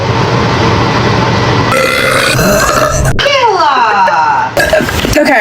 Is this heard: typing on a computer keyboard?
no